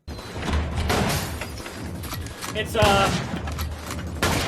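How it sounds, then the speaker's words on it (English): Gunfire and loud crashes ring out in the 2004 horror film Ginger Snaps 2: Unleashed, with sharp bursts and a heavy impact near the middle, mixed with film dialogue and viewers talking over it. "Okay, that has to be a gun, right?"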